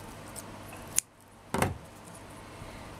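Two brief, crisp metallic snips of scissors cutting fabric, a moment apart, quiet room tone around them, no voices.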